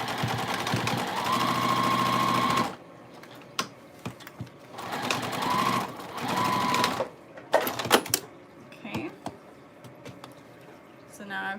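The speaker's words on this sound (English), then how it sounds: "Now I've got it sewn all the way around the outer edge." A sewing machine stitches around the outer edge of a fabric zipper pouch with a steady whirring hum in two long runs, separated by quieter handling clicks and rustles.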